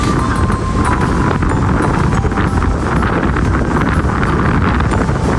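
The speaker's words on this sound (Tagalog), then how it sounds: "Lakas ang hangin." Strong wind roars across the microphone on a white sand beach, a loud, steady, buffeting rush that fills the whole stretch with no other clear sounds.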